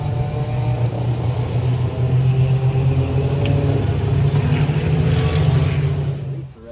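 Race cars drive through spray on a wet track at Watkins Glen during a six-hour endurance race, a steady, fairly close engine drone that holds throughout before dropping away at the end.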